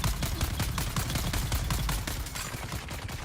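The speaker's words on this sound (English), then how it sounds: "Watch out, Gatling gunner." Rapid, steady Gatling gun fire in Dune Awakening, a loud unbroken stream of closely spaced shots with no talk.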